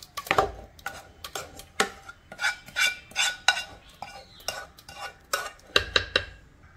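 Ground coconut paste is tipped into a cooking pot for Kerala sadya-style kalan, and a spoon taps and scrapes against metal in irregular close clanks and scrapes, with a faint sizzle underneath.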